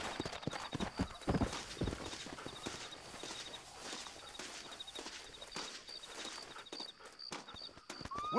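Horse hooves clip-clopping in the video game Red Dead Redemption on Xbox One, a steady walking rhythm of close, crisp footfalls with faint ambient birds and a soft snort.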